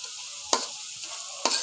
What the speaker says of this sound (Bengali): মশলাটা খুব সুন্দরভাবে আমি একটু কষিয়ে নিচ্ছি